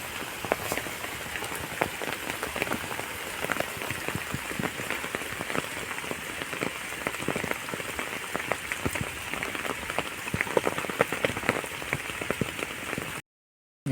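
Steady rain patters on trees and ground where sheep shelter, with dense, close drops and a constant hiss, then cuts off abruptly at the end.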